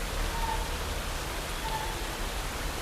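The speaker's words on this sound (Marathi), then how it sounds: "फुल जोरात पाऊस आहे" Heavy monsoon rain falls outdoors among trees, a steady, loud wash of noise with faint low rumble underneath and no clear talk.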